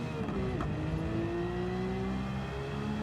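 Exhaust note of a car in the racing video game Gran Turismo 7, a steady engine drone whose pitch climbs slowly as it revs, continuous and fairly loud throughout, with no talking.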